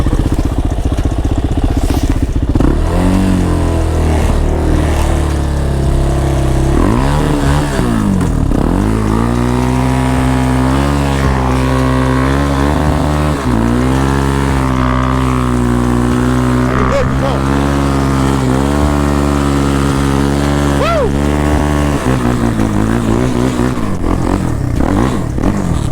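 A Suzuki LTZ 400 quad ATV engine revs outdoors in a snowstorm, its loud motor rising and falling in steady pitch sweeps throughout, with people talking over it.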